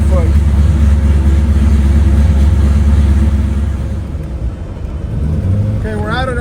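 Drag car engine idling steadily at a test spot before a launch, a loud continuous low rumble with a slight dip in level near the end, while a voice speaks over it.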